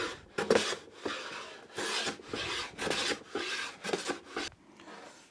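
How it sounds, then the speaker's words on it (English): A hand plane shaving wood against the grain, sounding as a run of rasping, scraping strokes in a steady back-and-forth rhythm, close and fairly loud, with brief pauses between passes and no talking. "I've actually hand planed as much as I can here now"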